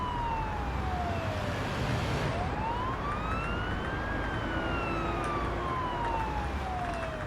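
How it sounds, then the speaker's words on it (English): Ambulance siren from the paramedic simulator game Ambulance Life, a loud continuous wail sweeping slowly down and up in pitch over steady engine and road rumble, with no talk over it. "Use the siren as needed"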